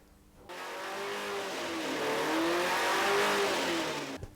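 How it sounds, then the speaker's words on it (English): A Norton Nemesis motorcycle engine runs up on a test bench, a loud, steady, close roar whose revs climb and hold for about four seconds before cutting off abruptly. "it's great to see this engine for the first time being run up on the bench, getting some horsepower out of it"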